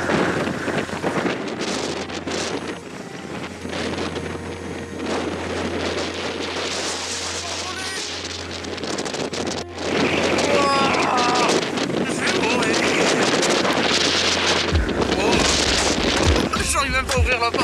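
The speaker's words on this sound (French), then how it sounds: "Oh, on ramasse le vent." Strong wind buffets a Kangoo van and the microphone during a storm on the Brittany coast, a continuous roaring rush that grows heavier partway through, with occasional low thumps and people talking over it.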